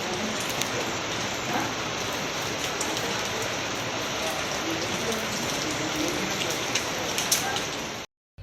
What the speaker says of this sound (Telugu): అనుకున్నట్టే ఇక్కడ వాతావరణం చల్లబడే కాదు, ఏకంగా వర్షం కూడా పడ్డది